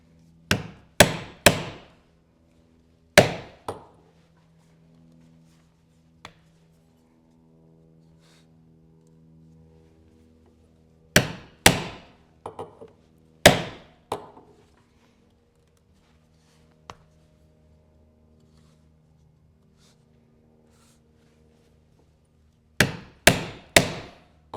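Someone hammers a 15-tine leather stitching chisel, with sharp, close strikes in quick clusters of two to four blows, separated by quiet pauses of several seconds.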